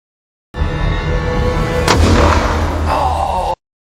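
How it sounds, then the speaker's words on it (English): A single sharp rifle shot cracks out in a swamp during an alligator hunt, loud and close, followed by a booming echo and a lingering rumble with outdoor noise around it. "Little Willie happily loaded the bullet and boasted that he could hit it with one shot"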